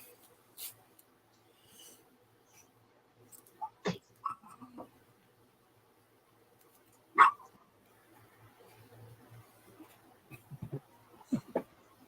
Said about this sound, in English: When that dog barks, you know who's here.